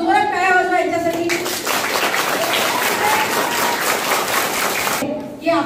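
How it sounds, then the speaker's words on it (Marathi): A crowd of children applauds loudly for their teachers at a Guru Purnima celebration held by former students, several seconds of dense clapping framed by a voice speaking just before and after. "मला मुलांना जोरात टाळ्या वाजवा"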